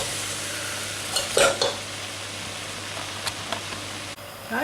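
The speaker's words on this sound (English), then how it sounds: "we're going to continue stirring it until all the meat has changed colour" Minced meat browning in a pan for bolognese, a steady close sizzle with a few scraping stirs and clinks of the spoon, without speech.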